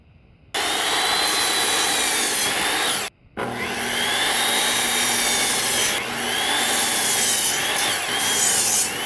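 A chop saw cuts through 2x4 lumber in two loud, sustained passes, with a brief pause between cuts and a high whining blade over the grinding of wood.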